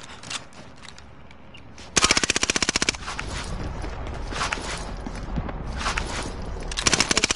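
Automatic gunfire in Call of Duty: Warzone, a rapid burst of loud rhythmic shots erupting after a quieter stretch, then more sustained firing with another close burst at the end.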